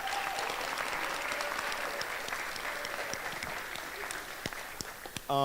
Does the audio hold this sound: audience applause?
yes